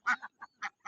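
Ducks on a farm quack in four or five short, close calls with brief gaps between them, given out while the birds are being fed by hand.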